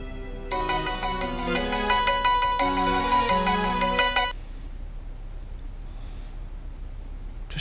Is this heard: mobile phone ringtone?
yes